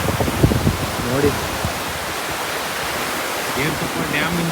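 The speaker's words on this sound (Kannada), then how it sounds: "ಇಷ್ಟು ನೀರು ಬರ್ತಾ ಇದೆ ನೋಡಿ" Bangara Kusuma waterfall near Gerusoppa, Honnavar, gives a steady, dense roar of rushing water that fills the whole clip, with voices briefly audible near the start.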